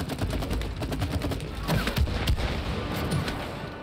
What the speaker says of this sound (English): Let's shoot this, babe. Look, shoot that.